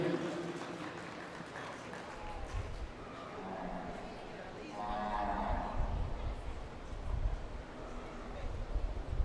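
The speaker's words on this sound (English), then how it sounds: "As they leave again, let's give one more round of applause." Applause for young Pee Wee showmen rises in the middle of the clip in a livestock showmanship ring, a broad patter of clapping from the crowd that continues at moderate volume over background noise.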